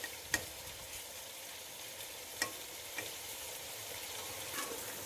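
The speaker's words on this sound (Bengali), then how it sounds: "টমেটো এবং কাঁচা লঙ্কাগুলো কড়াইয়ের এক সাইডে রেখে হালকা সেদ্ধ করে নিচ্ছি" Tomatoes and green chillies cook gently in a kadai, a faint, steady sizzle broken by a few sharp clicks of a utensil against the pan.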